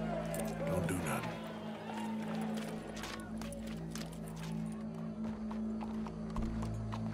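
Galloping horse hooves in Red Dead Redemption 2 clop in quick irregular beats beneath a steady musical drone and crowd murmur, fairly faint and at a moderate distance throughout.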